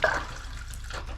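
An RV shower sputters as a failing water pump loses pressure and draws air, giving a thin, uneven spray with a brief gush at the start, then a quieter, hissing trickle.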